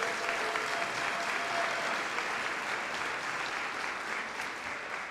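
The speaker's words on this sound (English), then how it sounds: "Can we get a round of applause for the Schwartzmans?" Steady applause from a sizable crowd at a donor appreciation luncheon, continuous clapping that holds at an even level before easing slightly toward the end.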